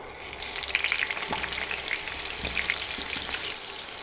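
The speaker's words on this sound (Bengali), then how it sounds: "চুলার আঁচ মিডিয়ামে রেখে আলুগুলো ভাজবো।" Potatoes frying in cooking oil in a pan over medium heat, a continuous crackling sizzle with scattered small pops and a few stirring scrapes, close but fairly quiet, no speech.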